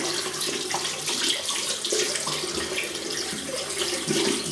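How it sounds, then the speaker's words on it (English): A small Simpsons Wee Scot shaving brush held under a running tap, the water splashing steadily into a sink with slight shifts as the brush moves in the stream. "I'm just going to kind of wet it under the tap"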